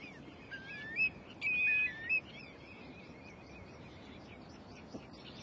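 A hungry owlet waits in its nest in a Scandinavian forest, giving a few thin, high, drawn-out calls in the first half, then falling quiet over faint background hiss.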